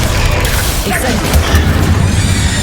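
An Incendio fire spell cast in Hogwarts Legacy bursts with a booming, crackling whoosh, loud and dense against busy game sound, with a voice faintly under it.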